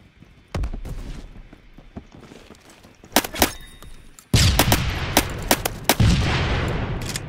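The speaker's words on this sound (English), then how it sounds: "Yep, that's the power of impact grenades" Impact grenade explosions in the Phantom Forces shooter game, sharp booming blasts sounding several times, loudest in the second half, against a steady rumble of battle.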